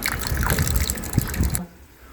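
Water leaking from a household geyser, a loud close gushing, splashing trickle with a few sharper drips that stops abruptly near the end, leaving a quiet room.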